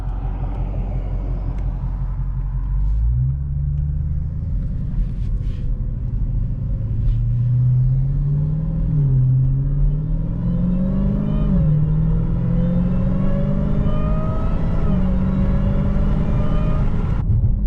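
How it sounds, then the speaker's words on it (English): A Jeep Defender engine rumbles loudly from inside the cabin, its pitch climbing and dropping through gear changes with a noticeable whine on downshifts. "You can really hear the whine in the downshifts now."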